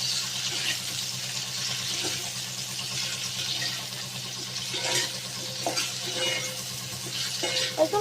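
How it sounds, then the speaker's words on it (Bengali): Sliced potatoes frying in hot oil and being turned, with a steady broadband sizzle throughout and occasional soft scrapes and clinks of a utensil against the pan; no talking. "কেটে রাখা আলুগুলোকে একে একে ছেড়ে দেবো তেলে। তো একে একে ছেড়ে দিয়েছি। এই আলুটাকে এপিট ওপিট করে নাড়িয়ে নেবো।"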